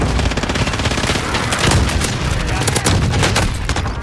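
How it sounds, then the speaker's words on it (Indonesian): Dense, loud rattling gunfire and booming blasts of an airstrike in a video game battle, continuous and close, with bursts of automatic fire and voices speaking over the noise. "Allies receiving airstrike incoming."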